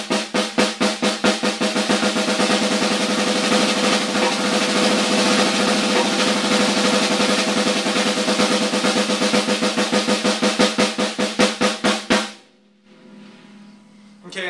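A drum double stroke roll led by the left hand, a fast, even stream of paired hits that builds from a slower start and runs for about twelve seconds before stopping abruptly into near quiet.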